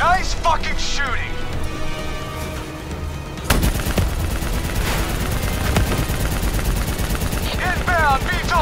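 Rapid gunfire and machine-gun bursts from the Call of Duty Black Ops 3 video game, loud and continuous, with a sharp jump in intensity midway, mixed with shouted in-game voices and vehicle noise.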